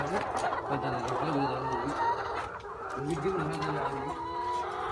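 A dense flock of chickens clucks and chatters continuously, a steady crowded murmur with occasional louder calls standing out.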